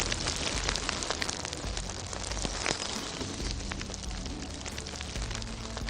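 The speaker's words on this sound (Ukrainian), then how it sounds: "Це шум дощу." Steady rain patters densely on a surface, a continuous even hiss of countless drops with no voices.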